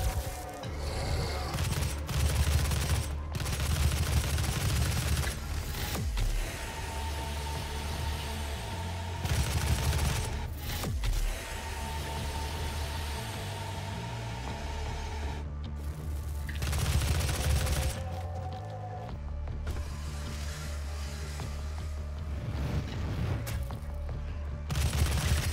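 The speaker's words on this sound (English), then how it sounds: "You can use the assault rifle to destroy this guy." Gunfire from an assault rifle in Doom 2016, fighting demons in the Argent Facility, heard as dense repeated bursts over a loud, continuous game soundtrack and effects.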